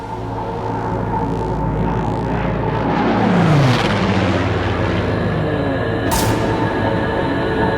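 A large military bomber roars past overhead, a loud sustained engine drone that swells toward the middle and then eases off, with a brief sharp burst near the end.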